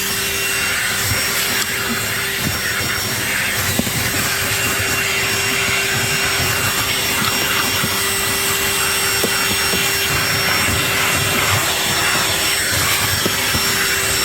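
A DeWalt 20V cordless handheld vacuum cleans sand from a car interior, running as a steady whining hum with faint scraping and rubbing as the nozzle moves over surfaces, close and without talk.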